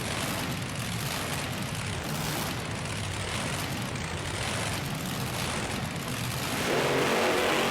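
Monster trucks racing side by side at a Kansas arena roar with loud, dense engine noise that holds steady and swells near the end.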